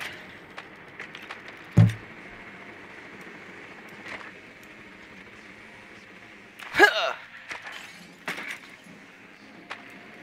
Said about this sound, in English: I already broke some glass.